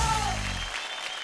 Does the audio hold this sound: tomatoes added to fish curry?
no